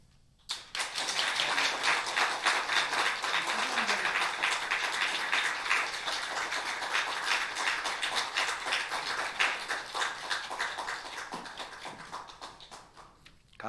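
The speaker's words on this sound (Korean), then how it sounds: "우리 다 같이 감사한 마음을 담아서 우리 뜨겁게 박수해 주시면 감사하겠습니다" A church congregation at a Sunday morning service claps warmly and persistently, many hands striking in a rapid, slightly uneven rhythm that starts abruptly, stays strong for over ten seconds, then thins out and fades.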